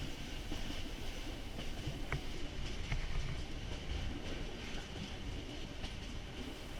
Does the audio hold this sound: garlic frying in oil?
no